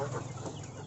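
Chickens cluck softly in a coop on a farm where they are fed maggot feed, a low steady flock murmur with no talk.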